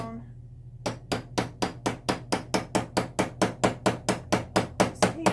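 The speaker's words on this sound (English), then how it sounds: "Same thing, I'm just kind of hammering it down." Hammer blows striking metal while riveting, about seventeen sharp, evenly spaced hits in a steady rhythm after a short quiet start, close and loud over a low hum.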